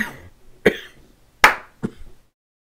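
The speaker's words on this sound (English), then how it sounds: "The final cough, I will leave you." Three separate coughs from one person, close and fairly loud, the second and third sharp bursts with a softer one trailing after, then silence.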